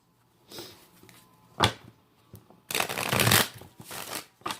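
A tarot card deck is shuffled in a few short bursts, crisp riffling flutters and a longer dense shuffle near the end, close and fairly loud with quiet gaps between.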